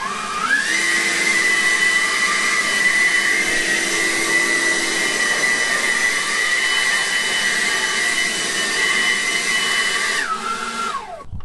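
A Seyvum 650CFM 40V brushless leaf blower in turbo mode spins up to a loud, steady high-pitched roar and whine, holds it for about ten seconds, then winds down.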